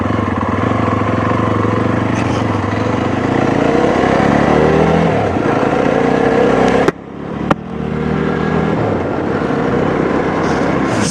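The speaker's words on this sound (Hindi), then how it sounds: "अब चलते इस बाइक पे। तो अपन आ जाते हैं फर्स्ट गियर पर, चलते हैं ज़रा हाईवे पे" A Jawa 42 E20 motorcycle pulls away in first gear heading onto a highway, its engine drone loud and close with rising revs and wind rush, briefly interrupted by a short dip before continuing, no voices.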